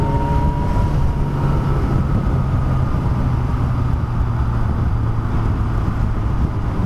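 A Yamaha R1 motorcycle, restricted to 48 PS, runs steadily while being ridden, a loud continuous engine drone with a rising tone early on, buffeted by wind noise and with no talking.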